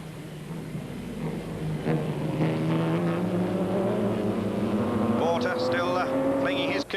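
A 1957 Cooper race car at a historic meeting at the Montlhéry circuit near Paris, its engine note climbing steadily and loud as it is driven hard, with sharper higher-pitched engine bursts near the end.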